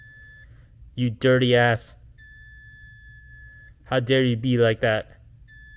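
A continuity tester gives a steady, high electronic tone whenever its bare probe prongs touch while checking speaker wires on a Ford Foxbody Mustang. Three sustained beeps sound, one at the start, a long one in the middle and a brief one at the end, with someone talking between them.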